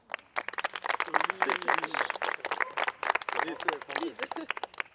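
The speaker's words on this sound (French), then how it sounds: "Les Akamura, les Malawi, on peut vous applaudir sur cette épreuve" A group claps in irregular bursts for the winning teams at an outdoor team challenge, the hand claps close and lively, with speech running underneath much of the time.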